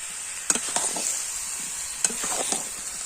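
Jackfruit and potato curry sizzles in a pan while a spoon scrapes and knocks against it in two short bursts of stirring. No voices are heard.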